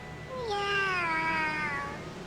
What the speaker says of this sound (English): I do like that meow.